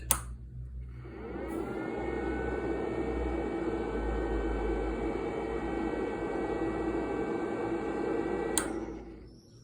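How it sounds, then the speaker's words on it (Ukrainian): A 24-volt to 220-volt power inverter runs with a steady electrical hum and whine for several seconds, near and moderately quiet, switching on and off with short clicks. "інвертор з 24 вольт на 220"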